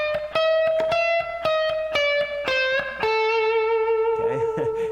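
A distorted electric guitar picks out a bluesy scale run of single notes, each struck cleanly and sustained, ending on a held bent note.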